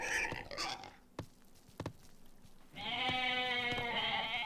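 Goats bleat in the Age of Mythology video game, several wavering farm-animal calls up close, with a long sustained bleat in the second half over faint background game sounds.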